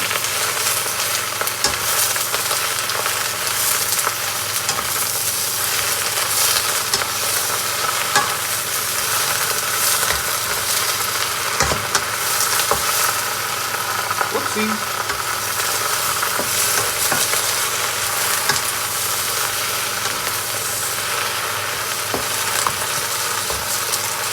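Snow pea leaves stir-frying in a hot wok, a steady close hiss and crackle of oil running the whole way through, broken by occasional knocks and scrapes of the spatula tossing the greens.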